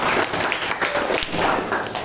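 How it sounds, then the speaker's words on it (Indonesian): Applause in a classroom during an Islamic religious lesson on Qur'an recitation, a short burst of many hands clapping at close range, steady and fairly loud for about two seconds, with faint voices mixed in. "Tepuk tangan"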